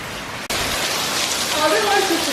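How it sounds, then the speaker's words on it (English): Heavy rain from Hurricane Irma in St. Cloud, Florida, pours down as a loud, dense hiss after a brief break, with gusting squalls and faint voices mixed in. "we are having some heavy rains now"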